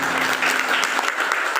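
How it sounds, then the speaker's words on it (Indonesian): A church congregation applauds together, dense steady clapping from a crowd filling the whole short moment. "tepuk tangan buat Tuhan."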